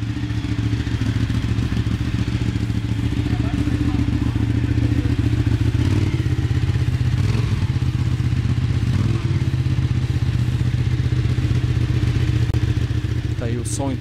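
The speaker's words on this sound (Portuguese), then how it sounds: "Tá aí o som então dos dois escapamentos da Panigale" A Ducati Panigale 1199 S with its two-cylinder L-twin engine and twin exhausts idles close by, a loud, even, throbbing rumble that holds steady for the full length without revving.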